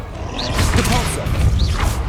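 Spell impacts and magical whooshes from Hogwarts Legacy combat, a steady stream of thuds and crashes layered over swirling effects with shouted spell incantations throughout.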